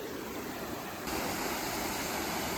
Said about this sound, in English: Do you know the name of this waterfall?